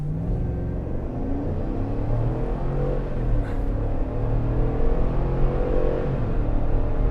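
Engine of a 2023 Chevrolet Suburban accelerating hard from inside the cabin, a low rumbling drone whose pitch climbs steadily through the gears, no talking.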